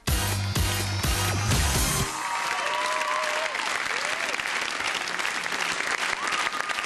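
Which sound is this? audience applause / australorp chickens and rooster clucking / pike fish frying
audience applause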